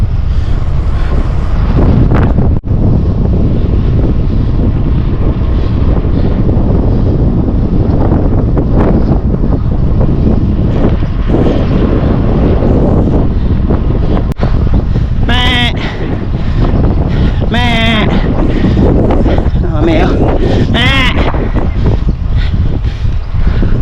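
Wind roars loudly and steadily across the microphone during a solo road bike ride, buffeting without pause from start to finish, with a few brief high chirps near the end.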